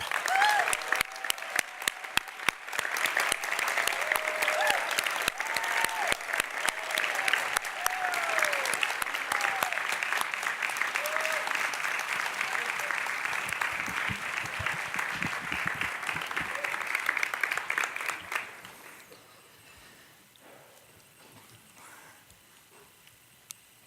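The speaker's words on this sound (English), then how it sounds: "A big round of applause for our first storyteller, who is HamedFarmand." Sustained applause from an audience at a storytelling event fills the space, dense and steady for most of the stretch with a few cheers, before stopping abruptly near the end.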